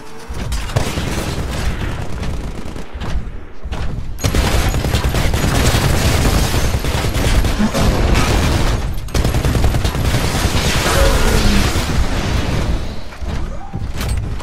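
Sustained gunfire and booming blasts in the shooter video game Titanfall, played on Xbox One, loud dense volleys with brief lulls, running continuously with almost no talk.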